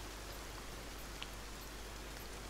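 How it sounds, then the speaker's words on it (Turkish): Steady rain falling in the survival game Sons of the Forest, a soft, even hiss that continues throughout, faint and alone with no talk. "yağmur sesinden şu an bir şey duyulmuyor"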